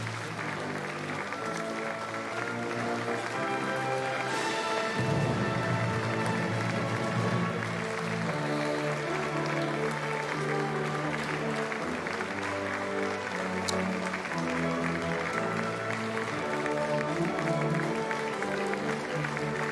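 Applause sounds at a South Korean presidential inauguration ceremony as lawmakers greet Lee Jae-myung and Kim Hye-kyung, a sustained crowd patter layered with steady music throughout.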